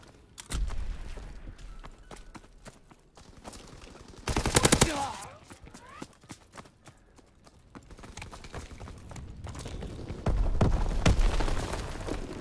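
Gunshots crack in the video game Call of Duty: WWII, coming in rapid clusters of sharp reports with quieter gaps between bursts, and a voice talking at times.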